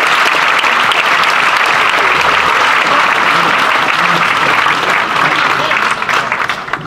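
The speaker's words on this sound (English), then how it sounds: "Big round of applause for them." A birdfair audience gives a big round of applause for departing quiz contestants, dense continuous clapping filling the room, loud and sustained, tapering slightly at the end.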